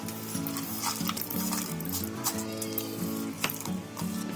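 A mashed sweet potato patty mixture with white sesame seeds is stirred and pressed in a bowl, giving soft, continuous squelching and scraping strokes up close. A low, steady hum runs under it.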